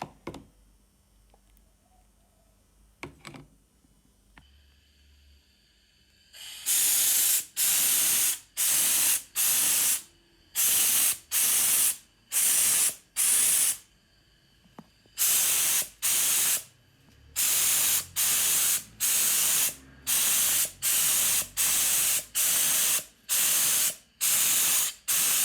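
Spray gun spraying Raptor liner coating in test runs, a series of loud hissing bursts of a few seconds each with short pauses, following quiet clicks of preparation.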